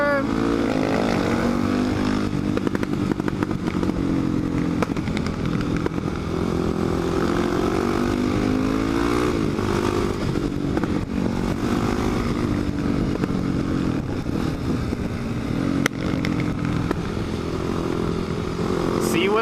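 A motorcycle engine drones and rises and falls continuously through gear changes while riding a twisting mountain road wet from rain, close and loud the whole time, with a person talking over it.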